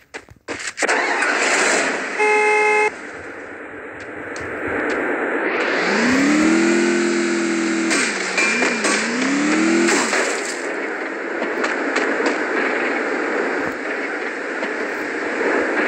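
A stuck jeep in a video game starts up and revs, its engine note rising and dipping in repeated surges over a steady rumbling drone, loud and close with no talking.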